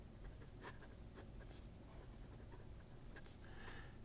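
A steel fine-nib fountain pen scratches across paper in short, close strokes with small ticks and pauses, quiet and steady over a low background hum.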